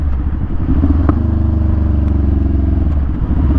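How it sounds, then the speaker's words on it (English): A motorcycle engine braking on the road runs as a loud, close, steady low rumble, with a faint click near the start. "a little bit of engine braking here just to get on the road"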